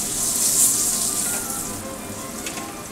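Fried speckled trout sizzling and crackling in hot oil, a steady close hiss of frying that eases slightly after the first second and a half, with no talk.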